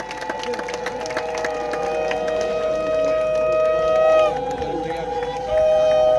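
At an outdoor welcoming ceremony for a new bridge at Canning, long steady conch-like tones and high ululating voices sound together over crowd noise and clapping, moderately loud and continuous.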